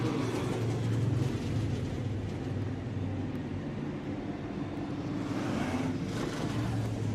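Dirt modified race cars at Florence Speedway fill the air with a constant engine rumble and roar, a broad steady drone from a group of cars, loud and unbroken throughout with no voices.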